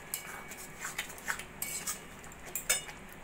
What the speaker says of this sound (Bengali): তরকারিটা আমি প্লেটে সার্ভ করে দিয়েছি।